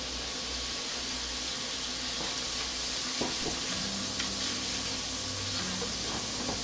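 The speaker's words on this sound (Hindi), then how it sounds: "अब मैं मज़ीद इसी तरह पोहा फ्राई कर लेती हूँ।" Poha (flattened rice) frying in hot oil over a medium flame, a steady close sizzle and hiss running throughout with a few faint clinks and stirring sounds.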